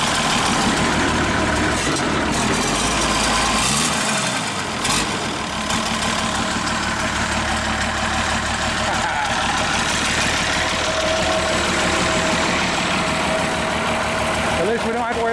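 A 1952 Unit crane engine idles outdoors with a loud, steady low rumble and a brief dip in revs early on, running continuously close by while people talk over it.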